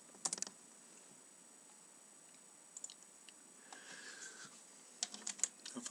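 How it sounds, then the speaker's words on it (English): Keys on a computer keyboard click in a few short, sparse bursts, faint in a quiet room, with no talking. "if we then go to the Hebrew and we type in"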